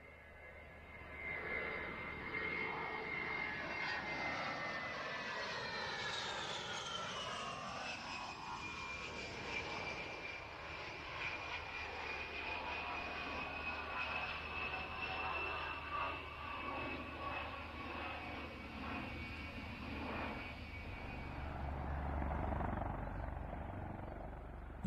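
A military aircraft flies over an airshow with a loud, sustained engine roar that rises and shifts in pitch as it passes, heard distant to moderately near with no talking.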